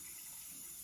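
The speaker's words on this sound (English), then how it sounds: "first we're just gonna turn on the water" Steady hiss of water running from a faucet into a sink for hand washing, continuous and even for the whole moment with no voices over it.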